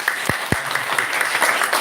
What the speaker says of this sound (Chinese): 咱搁一遍拍手欢迎